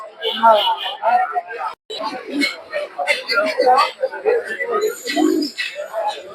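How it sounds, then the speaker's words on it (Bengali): Pigeons coo repeatedly at a bustling Monday animal and bird market in Madhabdi, Narsingdi. Their soft, throaty calls blend with nearby talking voices and crowd chatter throughout. "কৃষকে দিয়ে কিছু কবুতর দেখতে পাচ্ছেন"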